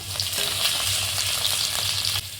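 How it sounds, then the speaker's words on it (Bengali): Potatoes fry in oil in a pan, giving a steady, close hiss and crackle that keeps up without a break and cuts off near the end, with a low hum underneath. "আলুটা একটু ঢেকে ভেজে নেব"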